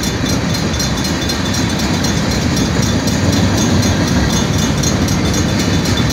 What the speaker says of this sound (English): sit-still train